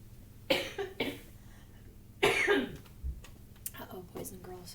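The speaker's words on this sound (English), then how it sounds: "I'm getting kind of a cough." A person coughs a few times, harsh and close, with faint clicks and a soft throat-clear between.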